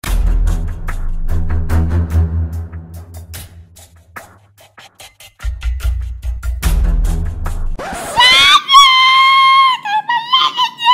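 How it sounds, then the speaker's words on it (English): A person screams on a film set during a scene, with shrill, wavering cries rising over a few seconds near the end, after a stretch of loud speech and background noise. "Why the heck you were screaming at the scene?"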